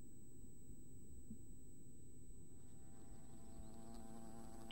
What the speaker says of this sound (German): Oh, da höre ich schon schönes Gesumme.